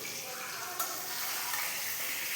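Large fish sizzle and crackle as they fry in oil in a kadai over a gas flame, a steady bright hiss with a single sharp clink near the start.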